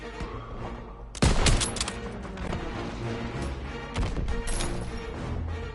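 Dense gunfire and rattling machine guns fill a World War II battle in Call of Duty: WWII, with a loud burst of fire then sustained overlapping shots and another heavy flurry near the end.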